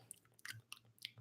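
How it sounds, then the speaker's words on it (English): Gum chewing held close to a microphone, with several soft, wet clicks and squishy bites in quick, uneven succession over about a second, faint and intimate with no talking. "chewing gum."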